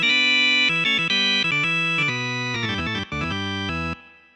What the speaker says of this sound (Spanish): El órgano Vox es un órgano de transistores